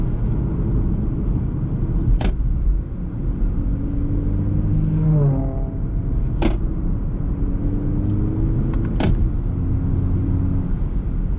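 A 2022 BMW 330e hums and rumbles from inside while driving, a steady loud low engine drone with a brief rising rev midway and a few sharp clicks.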